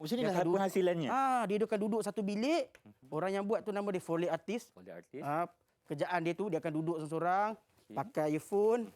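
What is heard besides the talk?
None of the usual background noises is heard.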